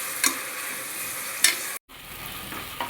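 Washed mint leaves fry in a pan with a constant hiss and a couple of sharp scraping stirs, cut by a brief moment of silence before the sizzle returns.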